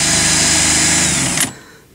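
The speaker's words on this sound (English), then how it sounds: "we have to drill the holes for the piping to go into the house." Power drill boring holes through a house wall for solar furnace piping, a loud close high whine that runs steadily, then cuts off abruptly with a trailing clatter.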